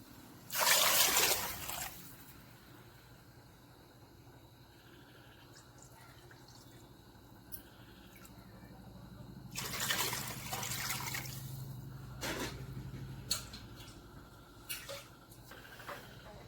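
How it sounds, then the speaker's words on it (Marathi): Water poured into a cooking pan of vegetables tempered with mustard seeds, a loud splashing pour at the start followed by softer trickles, drips and a later burst of liquid sloshing, close and with no talk. "त्यानंतर यामध्ये पाणी ॲड करायचं आहे."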